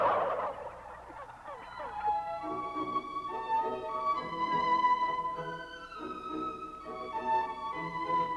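Wild turkeys gobble repeatedly, a flock of overlapping rattling calls that carry on throughout, moderately loud and nearby with no one talking.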